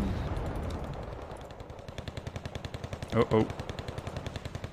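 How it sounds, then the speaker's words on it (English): Weapons fire in the video game Wargame: Red Dragon comes as a long, even run of rapid repeating shots, a steady mechanical rhythm with a louder burst near the middle and a brief voice over it. "Saturating the area with anti-tank weapons."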